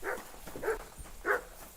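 A dog in the video game Kingdom Come: Deliverance II gives three short, soft barks spaced about half a second apart, fairly close by, with no talk over them.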